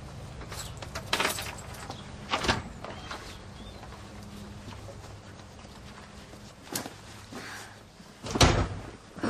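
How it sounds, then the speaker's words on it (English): A door is opened in a drama scene, with scattered knocks and thumps of handling spread across several seconds and a louder bang near the end, set against a quiet room. "Can you open the door?"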